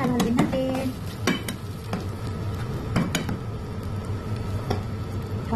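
Sardines and egg being stirred in a pan, with a spoon scraping and clinking against the metal over a low sizzle, close and fairly loud, with a few sharp taps early on and no speech.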